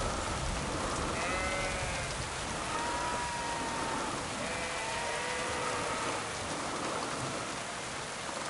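Sheep bleating in Kingdom Come: Deliverance 2, several wavering bleats spaced a few seconds apart over a steady wash of rain.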